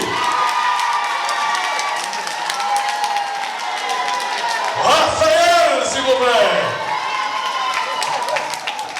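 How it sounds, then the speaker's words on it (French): Crowd at a beauty pageant in Martinique clapping and cheering, with shouts and whoops rising in the middle over continuous applause while a host speaks over the noise. "je vous demande d'applaudir très très fort. Faites du bruit."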